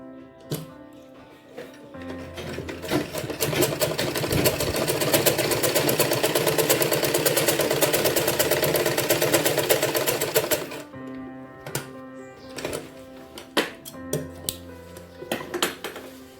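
A sewing machine stitches a salwar, starting with a few short bursts, then running in a long, fast, even rattle before stopping and stitching again in brief, choppy spurts, close by.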